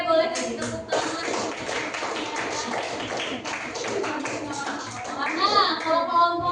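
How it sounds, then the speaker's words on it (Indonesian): A group clapping hands in a coding and computational thinking training session, a steady patter of claps running throughout with voices of children and adults talking over it. "Oke, boleh kasih tepuk tangan."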